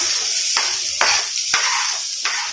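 Chopped garlic, a large onion and green chilli sauté in a hot pan, with a steady hiss of frying broken every half second or so by the scrape of a stirring spoon.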